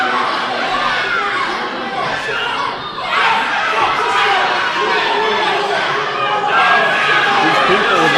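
A wrestling crowd at a match between Tito Santana and Eric Martin makes a loud, continuous roar of shouting and chatter, with a commentator's voice talking over it.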